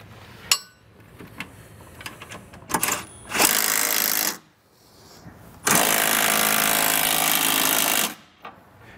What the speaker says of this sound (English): we're going to run down those M8 bolts just to help those rivsets expand and become a permanent installation